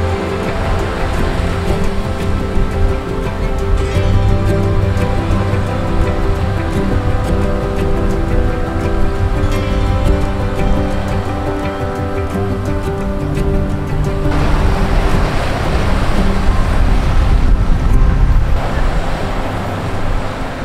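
Sea waves wash onto a long white sand beach with very blue water, a steady, loud, continuous surf roar filling the scene throughout.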